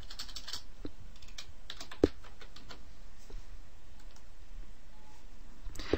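Close, quiet typing on a computer keyboard while spreadsheet cells are edited in Google Docs: uneven runs of light key clicks with a few louder taps over faint room noise.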